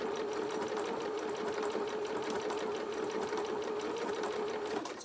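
A sewing machine runs steadily through ordinary thread on a doll's apron dress, a close, continuous mechanical whir with fast regular stitching rhythm that holds evenly throughout before stopping right at the end.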